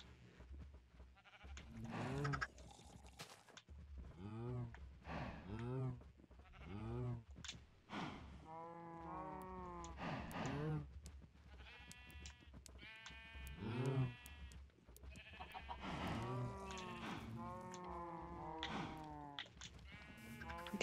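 Many sheep bleat repeatedly in a Minecraft-style video game, overlapping wavering cries rising and falling close by over a quiet background.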